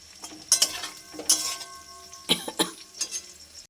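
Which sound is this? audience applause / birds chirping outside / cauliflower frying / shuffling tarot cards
cauliflower frying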